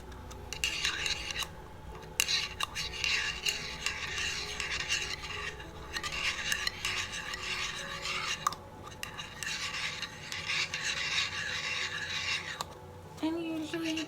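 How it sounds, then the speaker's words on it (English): Small metal tin handled and rubbed by hand, a steady rasping, scraping texture close to the mic with brief pauses, continuing for the whole stretch in a quiet grounding setting. "I like the tin that it comes in as well, so usually I will fidget with that if I need a little extra sensory."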